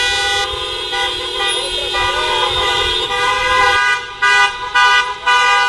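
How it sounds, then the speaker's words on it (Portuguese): Many car horns honk together at a vehicle protest around Praça Mauá in a city centre, layered sustained toots that overlap, then break into several loud separate blasts toward the end. "O buzinaço quebrou o silêncio dos últimos dias por causa da quarentena."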